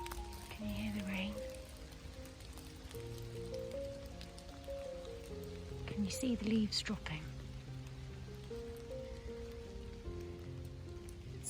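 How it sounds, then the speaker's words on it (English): Soft, steady rain patters on leaves and surfaces outdoors, a faint continuous hiss with occasional drips beneath a quiet voice and a low background hum. "Can you hear the rain?"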